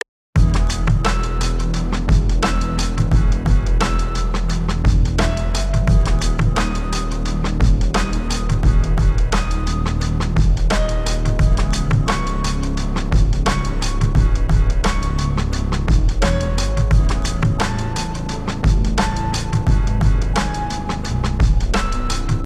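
A super saw synth bass preset plays a melody within a dense, loud mix, thick sustained tones and steady beats filling the track continuously without any voices.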